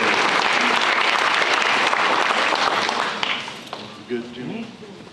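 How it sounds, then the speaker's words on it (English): Dense audience applause at a high school National Signing Day ceremony honoring a scholarship signing, loud and steady before thinning out toward the end, where voices speak over it. "Let's give her one more big round of applause."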